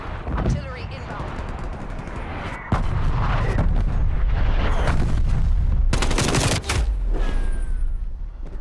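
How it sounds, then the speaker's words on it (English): Artillery strike explosions from Call of Duty Black Ops Cold War: a heavy, sustained barrage of booms and rumbling blasts with sharper gunfire bursts, loud and dense, with voices talking over it. "Artillery inbound."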